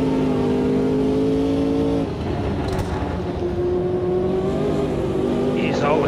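Race car engine in Automobilista 2 accelerating uphill, a loud harmonic drone that drops at a gear shift into third and then climbs steadily, with a brief screech of tires and a voice talking over it.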